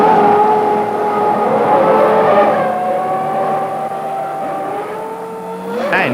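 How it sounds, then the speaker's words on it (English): Formula 1 cars, a Williams and a McLaren, in the pit lane at a 1993 race, a loud close engine drone holding a steady pitch with a slight fade, ending in a brief rising rev. "Hill is the first Williams to come in for tyres, but loses crucial seconds following Andretti's McLaren into the pit lane."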